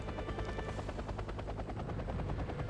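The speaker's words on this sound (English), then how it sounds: "Mi-8's coming in to take a look, and this is just a transport helicopter." A Mi-8 transport helicopter in the video game Wargame Red Dragon thuds past with rapid, even rotor chops over a dense engine roar, loud and steady, with no voices.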